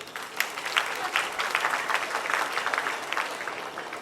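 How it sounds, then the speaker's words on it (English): An audience applauds steadily at a university youth festival event, a dense wash of many hands clapping at moderate loudness throughout with no voices on top. "Let's give them a huge round of applause."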